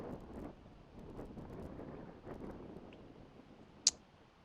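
Steady outdoor wind rumbling and buffeting a microphone during a windy golf round, a low continuous roar with gusty swells and one brief sharp click near the end.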